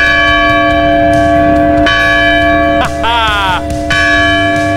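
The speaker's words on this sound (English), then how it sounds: "Gotta ring the bell." A large bell rings loudly and steadily in the open during a family trip around New York City and Washington DC, with a shift in tone near the middle and no voices over it.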